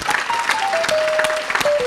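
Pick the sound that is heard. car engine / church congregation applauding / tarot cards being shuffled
church congregation applauding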